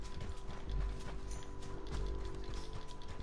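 Horse hooves clip-clop in Red Dead Redemption 2, a rapid, even stream of hoofbeats under a low rumbling bed of game ambience, fairly close and steady throughout.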